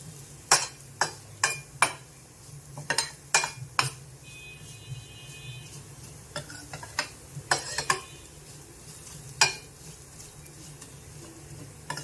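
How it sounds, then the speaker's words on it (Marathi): Vermicelli is stir-fried in ghee in a pan for sheer khurma, with a quiet sizzle under sharp, irregular clicks and taps of a spoon against the pan. No one speaks. "ती शेवई आपण याच्यामध्ये थोडीशी लाल होईपर्यंत आपण त्याला थोडंसं परतणार आहोत तुपामध्ये"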